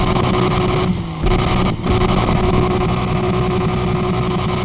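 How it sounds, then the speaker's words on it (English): A Need for Speed game car roars with its exhaust tone set to aggressive, a loud, sustained engine note broken by two brief dips like gear changes, then droning steadily on with no talking. "If I take that and I go all the way to aggressive with it, now the exhaust note sounds like this."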